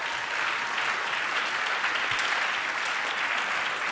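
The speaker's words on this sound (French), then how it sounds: "Clap for the Lord?" A congregation at a Thanksgiving seminar claps for the Lord, a continuous, full wash of crowd applause filling the whole stretch at a steady loudness.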